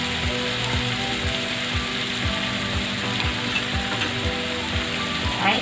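Fish pieces fry for fish katakat under a dense, steady sizzle with a regular, rhythmic low clacking or scraping running through it at roughly even intervals; close and constant, no voices.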